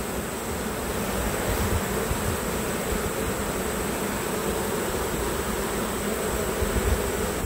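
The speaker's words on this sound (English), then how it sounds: "there's a new more carnelian bee just emerged out" Carniolan honeybees swarm and buzz around an opened hive during summer splits, a dense, steady droning hum that stays close and loud throughout without a break.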